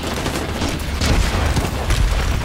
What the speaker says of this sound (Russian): Что-то все взрывается, трясется.